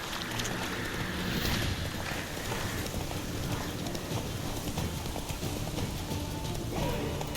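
The horse Roach trots along in The Witcher 3, hooves clip-clopping in a steady rhythm beneath a dense wash of in-game ambience and wind.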